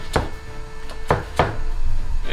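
A knife chops red onions on a board with three sharp, distinct strikes spaced unevenly, close and fairly loud against a quiet kitchen background.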